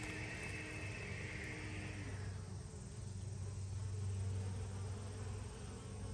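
Honey bees fly around a healthy hive in a steady, dense buzzing swarm, heard close and continuous with a faint low hum beneath.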